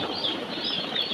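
Newly arrived broiler chicks in a poultry building fill the air with a dense, continuous chorus of high-pitched peeping, many birds at once with no single call standing out.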